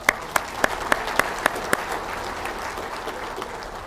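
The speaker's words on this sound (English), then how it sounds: "Give yourself a round of applause." Audience applause at an American Legion gathering: a steady wash of clapping from a crowd, with a few louder individual claps standing out near the start before it settles into an even patter.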